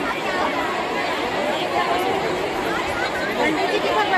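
Dense, steady babble of a huge crowd at a Shiv Mahapuran katha in Bhilai, Durg, Chhattisgarh, many overlapping voices close and loud throughout with no single speaker standing out.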